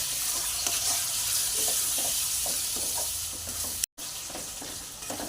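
Chicken kosha gravy sizzles hard in a pan as water goes in, a dense crackling hiss with stirring scrapes, broken by a momentary cut near the end.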